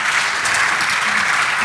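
A short burst of audience applause following a talk on the legal framework of medical cannabis, steady and fairly loud clapping from a room full of people.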